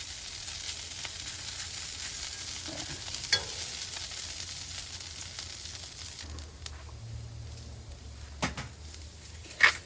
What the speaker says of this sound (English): we're just getting our ingredients for our pizza, our flatbread pizzas, cooked up